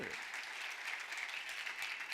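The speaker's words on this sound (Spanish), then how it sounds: "le da ese aplauso fuerte al Señor" Church congregation applauding at a Friday evening service, a steady wash of clapping from many hands that fills the whole stretch at moderate level with no break.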